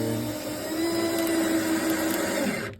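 A motorized drill whirs steadily for a couple of seconds, driving a screw into wood without a pre-drilled hole, then stops abruptly.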